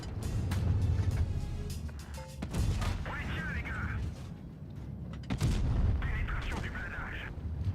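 Heavy tank cannon shots in a tank combat video game, fired against an IS-7 tank, land as several deep booms spaced a few seconds apart over a rumbling engine, with mechanical whirring between shots.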